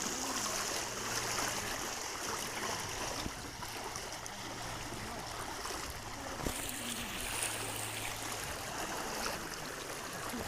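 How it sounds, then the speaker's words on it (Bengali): Strong floodwater current rushing across a village road in Feni, Bangladesh, a faint, steady, continuous wash of moving water heard from a distance, with no voices. "কি স্রোত তীব্র স্রোত পানির"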